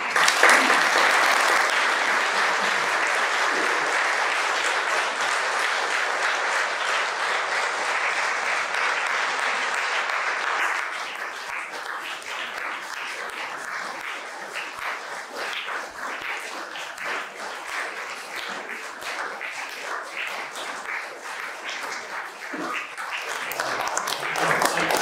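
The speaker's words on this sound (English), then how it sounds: "Applause was not primarily for me, but for the society." A lecture audience applauds at length after a poem-ending founder's lecture, a dense steady wash of many hands that stays loud for about ten seconds and then thins into a softer, sparser patter.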